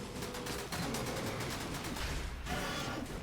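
A stunning turret in the game Dead Cells fires a rapid, dense burst of shots, loud and continuous for about two seconds, then briefly dips before the barrage resumes.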